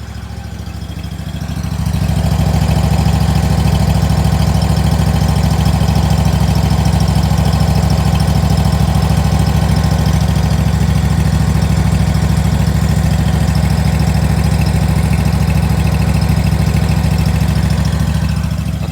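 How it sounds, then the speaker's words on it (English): A fuel-injected 26 or 27 horsepower Kohler Command Pro engine on a Scag mower starts up and settles into a loud, steady idle, its low rumble running unbroken and close throughout. "The engine that I have is the Kohler Command Pro. It is the fuel injected."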